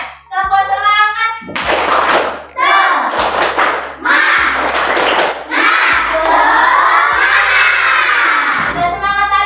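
Schoolchildren in a classroom do the 'tepuk semangat' clapping chant, shouting rhythmic chanted lines together, broken by sharp, loud bursts of claps in a repeating pattern.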